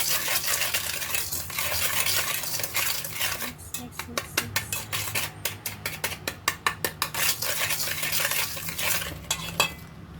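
A utensil stirs a coconut milk mixture for a coconut jelly dessert with sago, scraping against a pot and then tapping in a string of sharp, rhythmic clinks near the mic.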